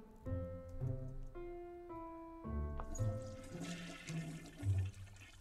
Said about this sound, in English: What's with this kid and just filling the sink with water?